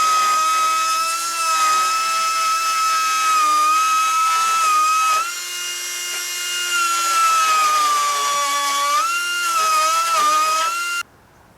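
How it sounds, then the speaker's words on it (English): Small grinding wheel grinding a rusty, corroded metal edge on a 1966 Mustang fender apron and shock tower; loud, steady high-pitched whine with shifting pitch that runs continuously and cuts off abruptly at the end. "I'm going to go ahead and hog out the inside here with the little grinding wheel"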